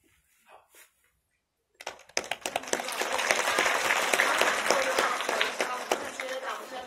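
A lecture-hall audience at a museum talk on Ming dynasty Jingdezhen porcelain bursts into applause after near silence, the dense clapping swelling quickly and holding steady and loud, with a few faint voices before it starts.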